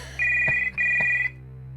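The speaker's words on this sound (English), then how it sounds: "Behind the door, a phone starts to ring." Two bright electronic telephone rings sound behind a door in the adventure game Stories Untold, fairly close and clear over a low steady hum, with no talking.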